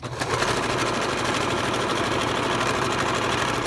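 A sewing machine stitches a fabric face mask with a rapid, even mechanical whir, close and steady, running continuously without pause.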